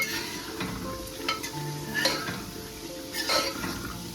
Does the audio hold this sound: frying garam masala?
yes